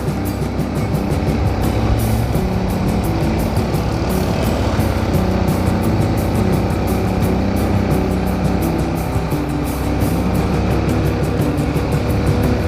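A motorcycle engine labors uphill in third gear on a southern Garut back road, a steady loud rumble with wind buffeting throughout.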